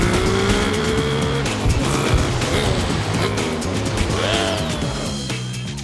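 A car drives hard with a loud engine roar, squealing tyres and skids, continuous and close for the whole stretch, with no talking.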